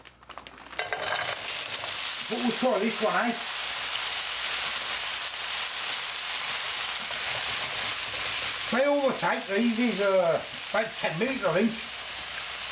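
Tesco frozen fajita mix fries in a wok over medium-high heat, a loud, steady sizzle running throughout while someone talks briefly in two spots.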